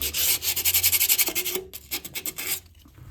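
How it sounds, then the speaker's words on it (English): Sandpaper scrubs a metal surface clean for a new gasket in a boiler room, with fast rhythmic back-and-forth strokes close by that slow and break up toward the end. "we're just gonna take a piece of sandpaper and try to sand this down"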